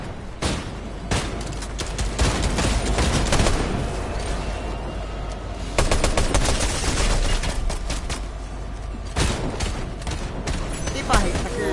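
Gunfire in the Fortnite Chapter 5 video game, bursts of rapid shots and booms recurring throughout, with players talking over the shooting.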